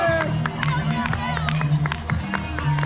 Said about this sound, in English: Let's keep cheering these runners as they come on in, folks.